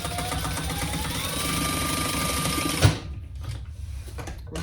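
A sewing machine bastes a fabric sling in place, its needle hammering in a fast steady rhythm for about three seconds before stopping abruptly with a thump, leaving quieter handling sounds.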